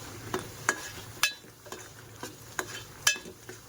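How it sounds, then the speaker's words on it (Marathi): A spoon stirs and scrapes fish curry masala paste roasting in oil for a pomfret curry, giving a soft steady sizzle with about eight sharp metallic clinks against the pan at an uneven rhythm. "हे मिक्स करून छान भाजून, मस्त तेल सुटेपर्यंत चांगलं भाजून घ्यायचं"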